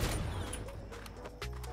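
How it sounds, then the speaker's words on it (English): Fireworks burst in the Town map of Call of Duty Zombies Chronicles 2, sharp crackling blasts over a steady, dense game-sound bed, with a louder pop near the end. "That is what fireworks is."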